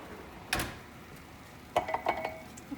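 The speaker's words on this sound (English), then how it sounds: "Loosen it from the pan a little bit." Metal utensil scraping and knocking against a baking pan of oven-roasted cauliflower: one sharp clank, a pause, then a quick cluster of clinks and scrapes, fairly quiet and close.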